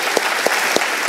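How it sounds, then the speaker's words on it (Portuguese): A lecture audience claps in a brief, loud burst, with a few sharp individual claps standing out from the dense close-up patter. "uma salva de palmas para vocês"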